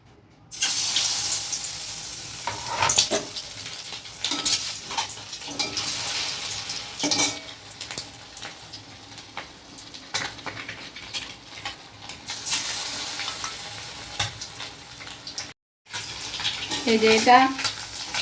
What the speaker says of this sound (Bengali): এইটা বন্ধ রাখার জন্য আমি এটাকে তেলে ভাজতে দিচ্ছি।